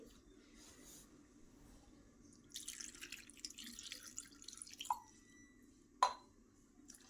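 Soaked dried red chillies and onions are rinsed with a glass of water in a quiet kitchen, with faint sloshing and a couple of sharp, isolated drips near the end.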